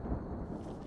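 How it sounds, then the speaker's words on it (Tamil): A deep, continuous rumble of thunder rolls on for the whole second, loud and broadband, the kind that comes before rain, with no voices present. "சரி, மழை வர மாதிரி இருக்கு, உள்ள போய் பேசலாம் வா."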